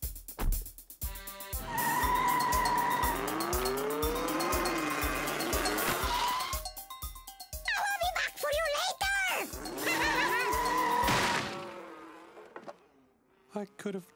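A cartoon car drives off with a steady, buzzing engine drone and repeated rising and falling tire squeals, loud and close, then stops abruptly near the end.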